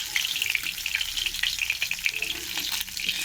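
Fish frying in hot oil until reddish-brown, a steady dense sizzle with crackling pops throughout, close and continuous with no voices.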